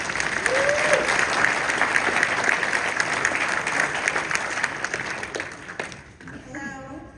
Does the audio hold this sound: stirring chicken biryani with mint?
no